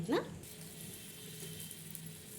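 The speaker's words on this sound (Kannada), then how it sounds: "ಇದು ಸ್ವಲ್ಪ ಆಯಿಲ್ ಫ್ರೈ ಮಾಡೋಣ." Oil frying for a traditional village seege soppu sambar: a brief sharp sizzle at the start, then a faint steady hiss.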